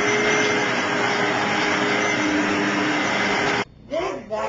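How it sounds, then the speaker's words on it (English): A Hoover vacuum cleaner runs loud and steady with a whining roar, then cuts off abruptly, leaving a moment of quiet and a brief voice. "just use this new Hoover vacuum"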